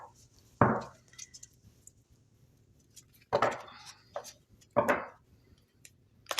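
A deck of cards reshuffled during an astrology card reading gives three separate crisp, rustling riffle bursts, close and fairly loud, with quiet pauses between them and no talking.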